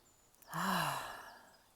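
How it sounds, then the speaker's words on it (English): A single deep, slow breath, drawn in and let out softly and close, with a gentle sighing quality, in a calm, quiet setting with no talking. "Let's take a deep breath."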